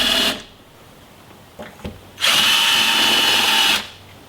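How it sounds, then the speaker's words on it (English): A power drill starts pilot holes for Napier fender flares, with a short burst near the start, a couple of faint knocks, then one steady, loud, high whine of about a second and a half before it stops. "I'll hold that in place while I just start the holes"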